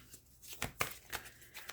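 Tarot cards are shuffled close by in a quiet room, giving a few soft, brief riffling bursts with short pauses between them and no voices.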